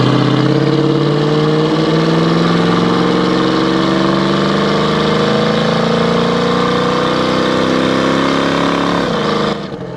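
A loud 340 V8 engine in a 1973 Plymouth Cuda revs steadily upward, its deep rumbling tone climbing in pitch for several seconds before easing off at the end.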